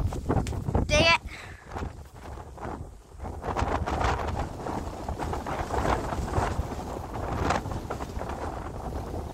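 Strong wind blows outdoors among trees, roaring and buffeting the microphone in gusty bursts that continue throughout, with voices underneath.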